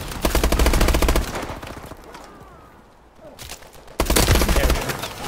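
Rapid automatic gunfire from a Call of Duty Advanced Warfare multiplayer match, loud bursts of machine-gun fire that drop to a quieter lull before another close, sustained burst erupts.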